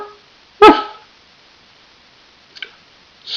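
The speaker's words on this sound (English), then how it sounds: "Dog, bark." A single dog gives one sharp, loud bark close by, followed by a faint short sound and quiet pauses.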